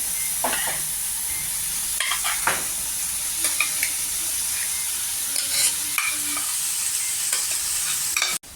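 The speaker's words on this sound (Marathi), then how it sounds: "आणि यात आपले ते उकडलेल्या भाज्या टाकायच्या सगळ्या." Boiled vegetables being stirred into sizzling pav bhaji masala in a pan, a continuous hiss of frying under repeated scraping strokes of a spoon against metal, close and fairly loud, no speech.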